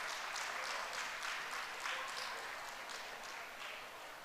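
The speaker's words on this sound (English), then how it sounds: "Can I request all the students sitting here to kindly greet our experts with a big round" An auditorium audience of students applauds experts at an innovation event, a steady wash of many hands clapping that sounds distant and fairly faint, sustained for several seconds without talk.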